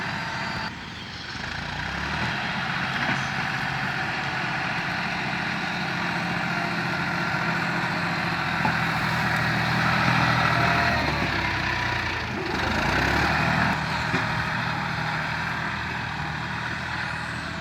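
A farm tractor's diesel engine rumbles steadily and continuously at moderate distance while it pushes over a large tree on a farm, with no pauses in the drone.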